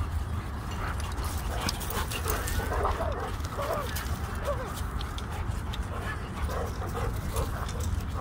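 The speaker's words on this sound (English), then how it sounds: "Got this dog over here" A dog playing outdoors gives intermittent yips, whimpers and panting over a steady background rush, with faint voices now and then.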